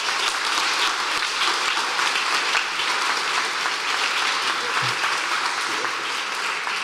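Audience applause for a student at a career and technical education celebration, steady continuous clapping from a crowd throughout, fairly loud with no break.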